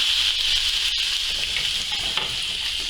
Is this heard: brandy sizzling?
yes